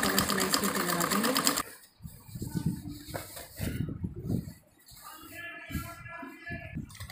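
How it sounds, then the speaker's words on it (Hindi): Sewing machine stitching a shirt sleeve in a short, loud, rapid rhythmic burst, followed by fabric handling and softer mechanical clicks. "फिर इसको टैप करके हम डबल सिलाई के ऊपर लगा देंगे।"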